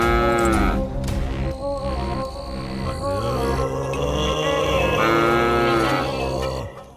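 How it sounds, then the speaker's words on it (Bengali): A cartoon cow moos at night in long, loud, drawn-out lows, several in succession filling the scene, with faint insect chirring behind and no talk. "এ কি, এত রাতে গরু ডাকছে কোথায়?"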